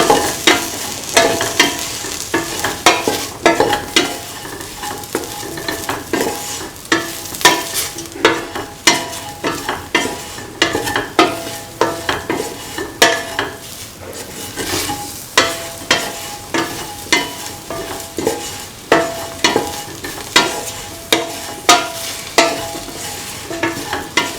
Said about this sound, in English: Now mix your spices.